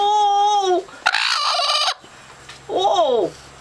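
Bantam Brahma hen defending her eggs lets out loud harsh squawks and a rising-falling cry, close up, with brief scuffling and a faint voice between calls.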